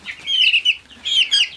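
Meat chickens in a brooder clucking, two close, loud bursts of high-pitched calls in quick succession.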